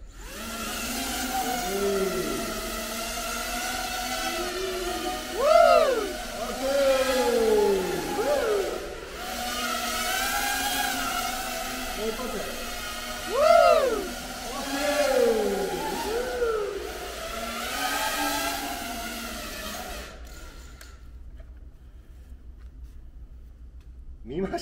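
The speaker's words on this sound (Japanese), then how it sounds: "プロペラ起動します" Small drone propellers whine steadily during a drone soccer match, the buzz swooping up and down in pitch as the drones dart around, with people talking excitedly over it until the sound cuts off near the end.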